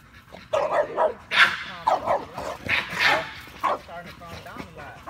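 Two dogs bark and yip in a lively run of overlapping barks with a few whimpers mixed in, close and fairly loud, under people talking.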